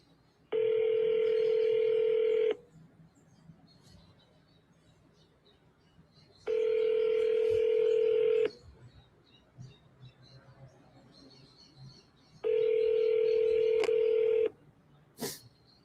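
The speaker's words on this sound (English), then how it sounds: "At least this was ringing." Outgoing phone call ringback: three long, steady electronic rings about two seconds each, separated by roughly four-second pauses, heard clearly over a quiet line.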